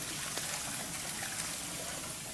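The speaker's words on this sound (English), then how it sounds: "Flush the toilet." A toilet in a house in Spain flushes and refills, a steady close rush of water that continues through the whole stretch without any break.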